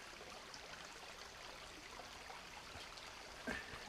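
Dirty creek water trickles and burbles steadily while a container is filled at a creek, close and fairly quiet, with a brief splash or knock near the end.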